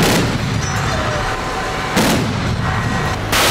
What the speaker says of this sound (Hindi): बारूद उगलता, हवा में टारगेट को खत्म करता, यह रूस का पंतशीर एयर डिफेंस मिसाइल सिस्टम है।